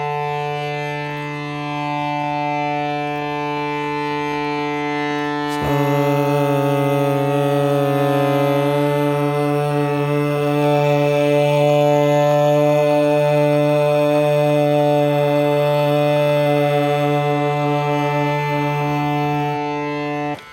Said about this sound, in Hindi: पहले हारमोनियम की आवाज़ सुनिए।